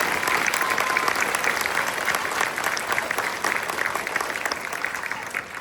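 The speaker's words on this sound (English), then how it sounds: "Would you please give them a round of applause?" Steady, dense applause from a concert audience at Stuarts Draft High School's winter band concert fills the hall, sustained at an even level throughout with a faint murmur of voices mixed in.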